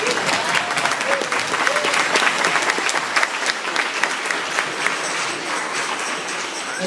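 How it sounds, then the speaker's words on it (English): Audience at a junior league band festival applauding a student band, dense sustained clapping with scattered individual claps standing out, loud and close, tapering slightly near the end with a few voices underneath. "let's give one more round of applause for this wonderful group of students in front of you today"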